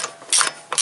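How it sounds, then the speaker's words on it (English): Ratchet wrench with a special socket tightening a drive shaft bolt on a 2007–2015 Toyota Corolla, giving two quick bursts of close, loud clicking pawl ratcheting with a short pause between. "And then I fasten this bolt first."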